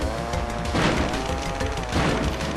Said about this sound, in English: It's really easy to hit it with a bomb